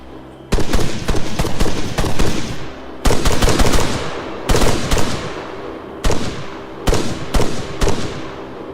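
Unsuppressed automatic rifle fire during a night operation in Arma 3, loud close bursts in several rapid volleys with short gaps between them, each burst trailing off in echo.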